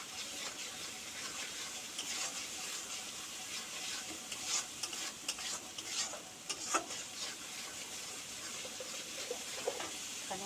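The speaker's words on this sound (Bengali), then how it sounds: "এগুলো মশলাটা ভালো করে কষাবো।" Spices being stirred and fried in a pan with salt, a steady close sizzle with scraping stir strokes throughout and no talking.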